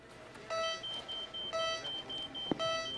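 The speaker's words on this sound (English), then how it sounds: "Security alarm at the beach house." A security alarm at a beach house beeps in a steady rhythm of three electronic tones about one second apart, heard over a low background hum.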